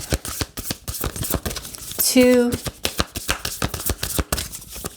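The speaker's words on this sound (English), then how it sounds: "I'll use 3 shuffles and then I'll move on." Tarot cards are shuffled by hand in a rapid run of crisp riffling flicks that continue throughout, close and fairly loud, with a voice counting once and a brief tonal chime partway through.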